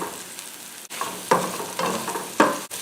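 Onions frying in olive oil in a medium pan: a steady close sizzle and crackle with bursts of stirring or scraping at regular intervals, no voices.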